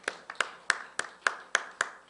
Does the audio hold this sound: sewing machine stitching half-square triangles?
no